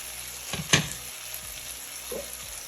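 Apples for Southern fried apples being stirred in a pan, a low sizzle with a sharp clack of the utensil near the start and a few softer scrapes, no talking.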